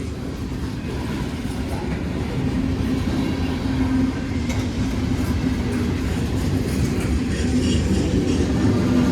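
A long loaded freight train with some graffitied cars rolls steadily past nearby, its wheels clacking over the rail joints beneath a continuous heavy rumble.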